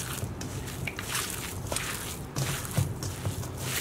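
Hands mix lamb mince by hand, making soft, wet squelching and squishing sounds in uneven bursts, faint and close, with no voices.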